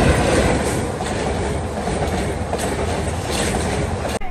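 A train rolls through a level crossing on a Kerala road, loud and close, with steady rumbling wheels and a rhythmic clatter over the rails that keeps on for the whole stretch and then cuts off abruptly at the end.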